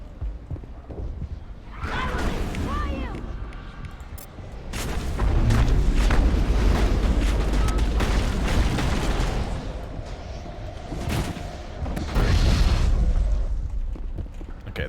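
Grenades going off in a video game battle, several deep booming blasts spread over fifteen seconds with rumbling aftermath and scattered impacts between them, loud and close.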